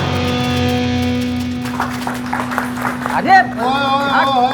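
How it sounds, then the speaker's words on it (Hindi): In a courtroom scene from a Hindi film, a brief burst of clapping rises over a sustained music bed, followed by someone speaking. "क्या तालियां बजा रहे हो?"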